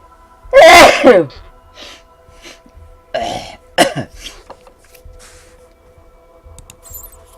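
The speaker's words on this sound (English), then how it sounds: "I gotta sneeze." A single loud, close sneeze bursts out, followed by a couple of throat-clearing coughs and small sniffs in an otherwise quiet room.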